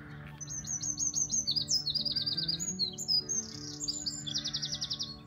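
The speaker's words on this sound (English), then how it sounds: "And I'm getting shouted over by a wren." A wren sings loudly and close by, pouring out rapid trilling phrases of high chirps and ringing notes in quick succession, nearly continuous and without talk.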